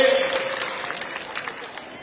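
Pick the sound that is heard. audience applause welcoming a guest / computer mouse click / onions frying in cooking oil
audience applause welcoming a guest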